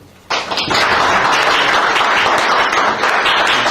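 Audience applause at a political policy forum in Korea welcomes a professor: loud, dense clapping starts abruptly and holds steady throughout, with no talk over it.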